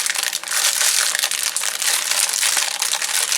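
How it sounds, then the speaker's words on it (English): Dollar Tree chocolate cake mix package being opened, a dense, continuous crinkling and crushing of plastic wrapping, loud and close throughout with small crackles and no voices. "I'm going to open the package and I'm going to add the mix to my bowl."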